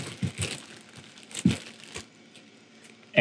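Plastic bag holding portions of skate wing in buttermilk is pressed and sealed, giving several short crinkling bursts close up, then a louder rustle at the end.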